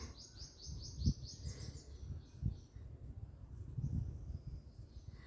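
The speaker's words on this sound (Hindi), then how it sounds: "चिड़ियों की आवाज़, चहचहाती हुई आवाज़ आती है" Small birds chirp in quick high bursts, mostly near the start, over faint low rustling and background noise.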